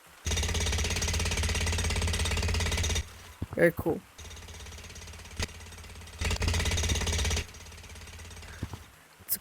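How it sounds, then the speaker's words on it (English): Loud rapid jackhammer pounding in the video game Construction Malfunction, in two long bursts separated by a pause, with a brief spoken remark in the gap. "It's a cool jackhammer."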